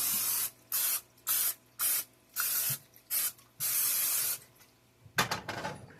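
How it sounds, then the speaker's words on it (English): Cooking spray hisses onto a breakfast pan in a series of short, close bursts, about seven in a row, followed by a brief clatter. "let me spray my pan"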